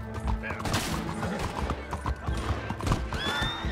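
In a Red Dead Redemption 2 game, a horse whinnies and its hooves clip-clop busily at close range while distant gunfire pops, and someone talks over it.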